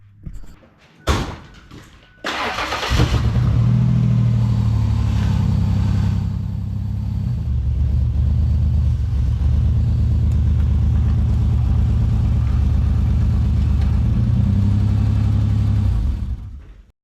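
A 1995 Ford Explorer engine with its exhaust removed starts after a few sharp knocks, then roars loud and steady with a deep, throaty rumble and slight dips in revs, held close for about fourteen seconds before cutting off.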